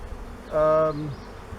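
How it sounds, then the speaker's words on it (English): A brief, close buzz of a honey bee flying past a small hive, a steady droning hum lasting under a second. "bees are going out and getting nectar, and they're coming back to this small hive."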